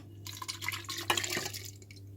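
Water poured from a measuring jug into a pot while making dried longan tepache, a steady splashing pour of about two seconds with a brief louder gush midway, close and alone.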